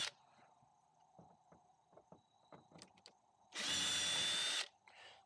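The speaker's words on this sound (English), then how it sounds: "I'm doing it on my drill just to back out these square screws" A power drill whirs in one loud, steady burst of about a second, backing out square screws from an RV marker light, preceded by quiet clicks and handling taps.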